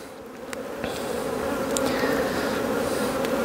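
Honeybees buzzing steadily in an opened hive during an early-spring coastal inspection, a dense, close, continuous hum that swells slightly louder partway through, with no voices.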